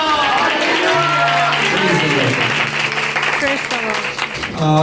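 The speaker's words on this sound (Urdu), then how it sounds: "زوردار تالی بجا کر کہیں ہلیلویا۔" A church congregation claps vigorously and shouts hallelujah, loud clapping mixed with cheering voices and shouts over a held musical tone, swelling again at the end.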